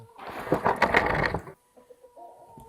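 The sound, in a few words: chickens clucking on a farm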